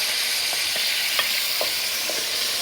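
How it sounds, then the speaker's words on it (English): Meat browns in a hot pot over a fire for Kyrgyz plov, a steady loud sizzle with a few soft stirring knocks scattered through, no voices. "So that meat's browning a bit"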